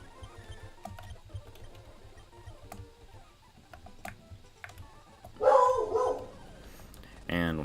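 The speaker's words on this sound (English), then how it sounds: "And one of my dogs is barking." A pet dog barks a few times in another room, faint and brief, with a sharper louder burst near the end over low background noise and keyboard clicks.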